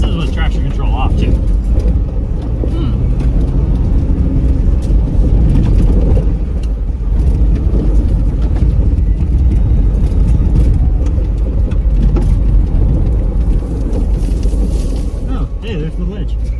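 A Ford Bronco crawls off-road on a Nevada trail with traction control off, its engine a loud, steady low rumble with rough bumps and rattles throughout, while people talk over it inside the cab.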